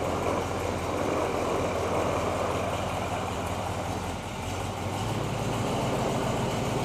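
A Land Rover FC101 forward-control truck's V8 engine running at a steady, loud low rumble throughout, idling close by with no voices over it.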